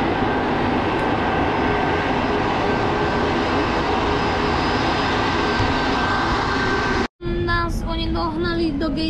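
Steady broadband roar of airliner jet engines at an airport, loud and continuous with faint tonal whines, then cut off abruptly near the end and replaced by a quieter engine hum.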